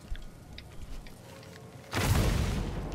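A single heavy super shotgun blast in the Warhammer: Vermintide II video game erupts suddenly after a quieter stretch, booming loud and close with a rumbling tail.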